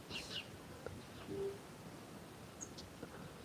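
Owls call in a dark outdoor setting, with faint, distant hoots and a few soft higher calls over low ambient noise.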